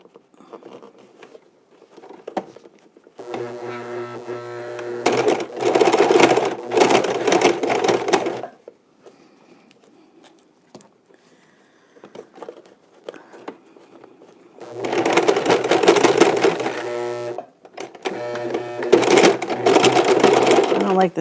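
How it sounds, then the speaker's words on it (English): Sewing machine stitching a fabric face mask runs in loud, fast bursts of a few seconds each, separated by quieter pauses, with a person talking between runs. "going to stitch below it to encase it without sewing through it"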